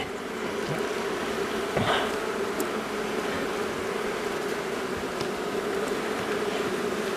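Honeybees buzz at the entrance of a hive in autumn, a steady, even drone of many wings that holds throughout with no voices.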